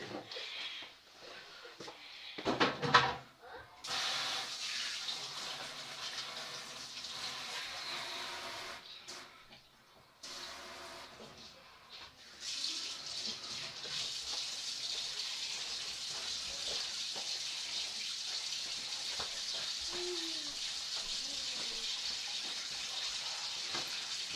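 Broth poured steadily into a dish while cooking a beef, potato and cheese gratin, a continuous hissing, liquid wash lasting many seconds after a brief clatter, fairly close and unbroken.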